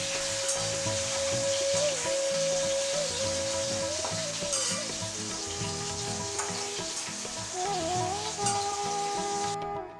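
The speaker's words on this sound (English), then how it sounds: "she creates a mixture of tomato, garlic, chili powder and salt, and puts it in that boiling oil" Steady, loud sizzling and crackling of a tomato, garlic, chili powder and salt paste frying in hot oil for Bengali fish curry, with occasional stirring scrapes and a faint tonal hum running underneath throughout.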